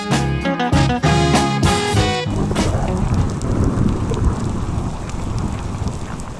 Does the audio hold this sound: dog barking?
no